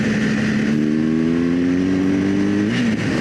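Motorcycle on scrambler tires climbing a rocky, muddy dirt road, its engine loud and close as the revs sweep upward in a steady drone before dropping sharply on a downshift near the end.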